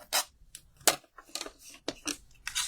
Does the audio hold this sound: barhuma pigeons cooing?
no